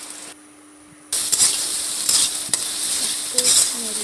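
Turmeric, cumin powder and salt stirred into hot oil in a pan; after a brief near-silent pause, a loud, steady sizzle starts, broken by a few scraping stirs.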